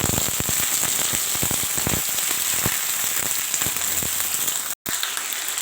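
Okra tossed into a frying pan with browned onions crackles and sizzles loudly and steadily, with sharp popping spatters throughout and a brief gap near the end.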